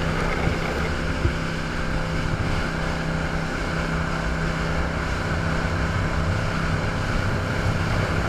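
A motorboat cruises on Lake Powell early in the morning. A steady engine drone runs the whole time, mixed with water rush and wind buffeting the microphone, and no one speaks.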